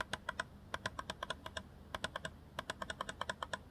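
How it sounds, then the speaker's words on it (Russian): Rapid bursts of sharp little clicks from the rubberized scroll wheel of an MSI Clutch GM41 wireless gaming mouse, rolled in quick clusters, close and crisp with short pauses between runs. "Колесо прокрутки прорезиненное, клик хороший,"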